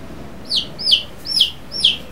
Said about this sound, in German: Dem Küken geht's auch noch gut.